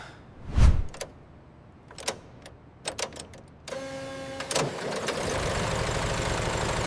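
A heavy old military truck engine cranks a few times, coughs, then catches and settles into a steady, loud rumbling idle.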